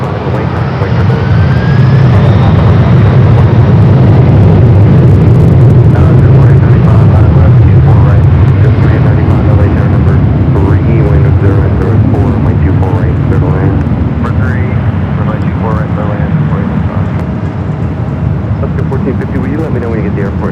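A fixed-wing airplane takes off from runway 24 left at LAX, its engines a loud, sustained roar that holds steady for about twenty seconds, with radio voices talking faintly underneath.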